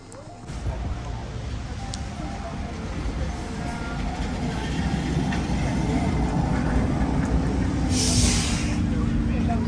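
An Oslo metro train rumbles steadily along the track, a low continuous roar that slowly builds in loudness, with faint hissing and rattling on top.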